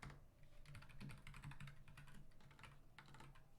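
Bursts of rapid typing on a computer keyboard during a coding session, soft close key clicks in uneven clusters with short pauses, and no talking over them.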